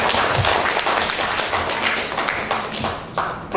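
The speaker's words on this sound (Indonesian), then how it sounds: "Tepuk tangan untuk Pak Safruddin Bahar." An audience at a formal gathering in Indonesia claps, a dense steady patter of many hands that thins toward the end, with a few louder nearby claps and thumps.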